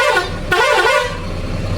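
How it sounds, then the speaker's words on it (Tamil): A loud horn on a new BharathBenz AC semi-sleeper bus blares close by, a sustained honk with a brief break partway through, over a low engine idle. "லைட்டாக ஹாரன் இங்கே கொடுத்துருக்காங்க"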